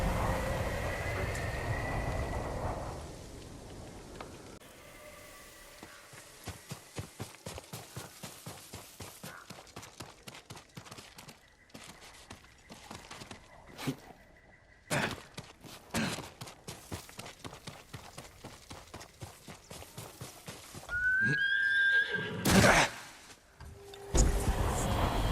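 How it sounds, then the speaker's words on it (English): Horse hooves clop in a steady walking rhythm on the ground in the video game Ghost of Tsushima, with a few louder thumps and a brief neigh near the end. "Horse!"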